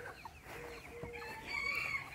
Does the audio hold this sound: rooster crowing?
yes